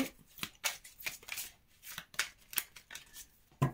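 A small Lenormand deck is shuffled and dealt by hand, giving a handful of short, papery swishes and flicks in an uneven rhythm, close by with no voice over them.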